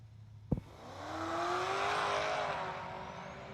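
A G8 GT and a turbocharged wagon launch in a no-prep drag race: after a sharp crack, engines roar and climb steadily in pitch, loud and sustained as the cars pull away.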